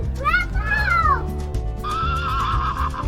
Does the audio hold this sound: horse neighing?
yes